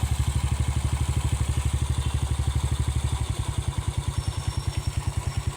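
A Suzuki Smash 115 motorcycle engine runs steadily at idle nearby, a loud even chugging pulse that shifts slightly in tone partway through, with no talk.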